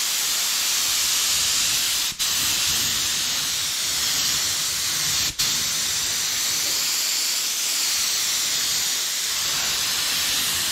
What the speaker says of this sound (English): Gun ain't spraying so great.